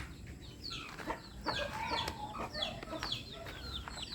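Several chickens cluck and squawk in quick overlapping calls, close by and fairly busy, with no talking.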